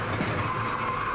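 A NASCAR Winston Cup stock car slams the wall and spins at Talladega in 2003, heard as a loud, continuous roar of engines and scraping tire noise that holds steady throughout.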